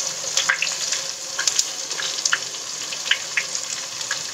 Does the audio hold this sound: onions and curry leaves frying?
yes